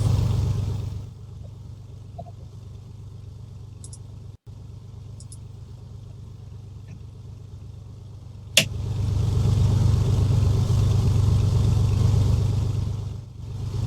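Piston engine of a Beechcraft A36 Bonanza in the FSX flight simulator game, a steady low drone that drops quieter for a while, then abruptly swells louder and holds with a broad rumbling roar.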